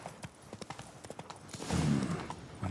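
Hooves of Roach, a horse in The Witcher 3, clip-clop in a quick rhythmic gallop, close and fairly soft, followed by a brief louder snort or whinny near the end.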